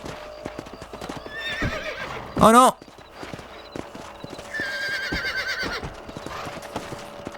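Horse hooves clip-clop steadily in the Red Dead Redemption video game, broken by one loud, sharp whinny, while someone talks over the game sounds.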